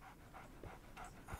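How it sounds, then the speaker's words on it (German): A dog sitting right beside someone, panting in quick, soft, rhythmic breaths, about four or five over a second and a half, quiet and close with no voices. "Mein Hundi sitzt hier auch neben mir und passt auf mich auf."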